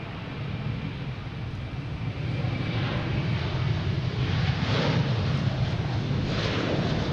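A jet airplane roars steadily at Boston Logan International Airport, a broad, rumbling engine wash with wind buffeting that swells slightly as it passes, with no talking.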